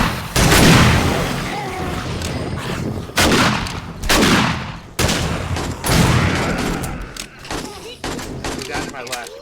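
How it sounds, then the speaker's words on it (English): Rapid bursts of gunfire from the survival game 7 Days to Die during a Horde Night attack, loud and dense, with repeated volleys and brief pauses, and someone talking over the shooting. "Not even aiming, everybody, just shooting forward."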